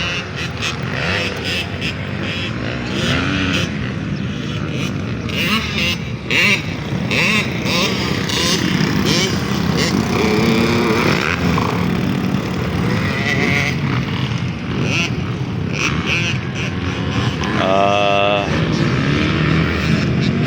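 Motocross motorcycles revving near Linyong Hill in Legazpi, a loud, continuous mix of engines rising and falling in pitch, with someone talking over them.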